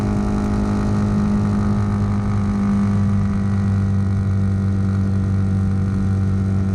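An RPS Hawk DLX 229cc Chinese dual-sport motorcycle engine drones steadily and loudly as it climbs an incline carrying two riders, holding an even, humming pitch throughout.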